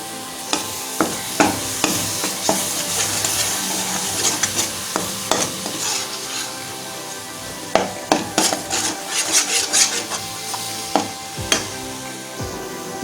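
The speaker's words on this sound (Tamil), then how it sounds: "அந்த ஸ்டேஜ் வரைக்கும் வந்துட்டு நம்ம அப்படியே கைவிடாமல் கிளறிட்டே இருக்கணும்." A spoon stirs and scrapes a thickening mango coconut burfi mixture in a nonstick pan over medium heat, with repeated sharp scraping knocks against the pan over a soft sizzle.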